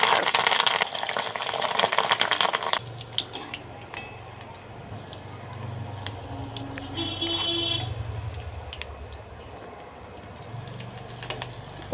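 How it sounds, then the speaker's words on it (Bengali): Fish egg fritters dropped into hot oil in a wok crackle and sizzle, a loud initial spatter settling into steadier frying bubbles with occasional pops. "এবার একটা একটা করে বড়া ছাড়ব"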